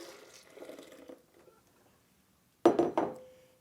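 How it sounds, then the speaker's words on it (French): Oat milk splashes back into a rinsed glass jar, a short bright pour with clinks of glass near the end, after a soft stretch of rinsing water. "Je vais rincer mon bocal et on remet le lait dans le bocal."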